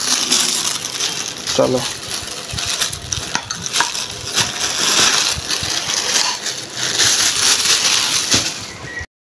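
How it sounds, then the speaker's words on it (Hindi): Items are put into a plastic bag, giving crinkly rustling and scattered clinks and knocks from handling, with someone speaking briefly over the sounds. "तो भाई थैली निकालते हैं और ये डालते हैं सामान थैली के अंदर।"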